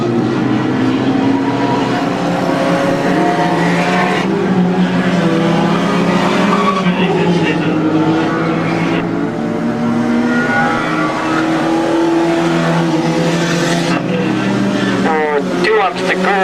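Stock cars racing on the Crimond circuit in 2002, loud roaring engines and tyre squeal throughout, with a commentator talking over the constant close-up racket of the pack.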